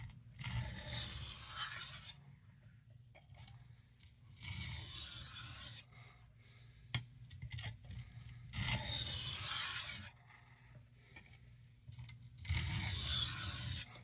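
Sabatier 8-inch chef knife with a bolster sharpened by light strokes on a medium crystalline stone, heard as close, even scraping passes in long bursts separated by pauses, with no talk.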